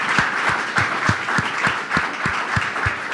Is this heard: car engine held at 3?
no